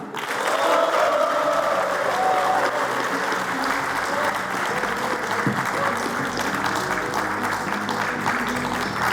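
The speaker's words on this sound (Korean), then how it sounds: "큰 박수로 모시겠습니다" A crowd at a workshop for Gyeongbuk agricultural cooperative heads gives a big round of applause to welcome Governor Lee Cheol-woo to the stage, loud, dense clapping sustained evenly throughout, with faint voices mixed in.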